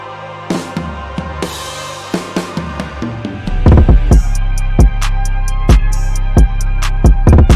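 A punchy break-drum pattern with sharp snare hits and deep kicks, first sparse and then joined by a heavy booming bass layer and steady crisp hits.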